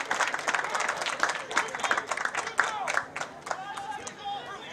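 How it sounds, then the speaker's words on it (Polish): Crowd applause and cheering at an American football game in the stands, a dense burst of clapping with whistles and shouts, fairly close and loud, thinning slightly toward the end, with a voice talking over it. "Wielkie brawa dla Luka Zeta."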